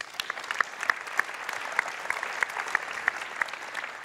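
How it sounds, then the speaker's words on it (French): An audience at a labels award ceremony applauds warmly, a brisk, even patter of many hands clapping for about four seconds, with a few louder individual claps standing out. "On peut les applaudir bien fort."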